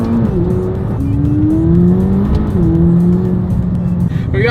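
A McLaren accelerates hard through a roundabout, its engine note climbing steadily in pitch and shifting as revs rise and fall, loud and close under constant road noise.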